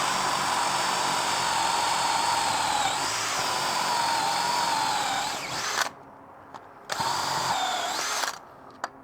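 A power drill, not a woodworking model, bores into wood for an anvil stand, whining loudly and steadily for several seconds, then cutting out and restarting briefly in short bursts.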